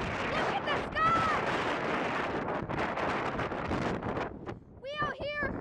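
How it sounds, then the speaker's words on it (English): Strong gusting wind before a tornado batters the microphone with a continuous loud roar, while people shout and talk under it throughout. "You can't even hear me. It's so windy."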